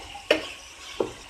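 Chilli bread masala being sautéed in a pan, a soft steady sizzle broken by two quick scraping stirs about a second apart, close up with no talking.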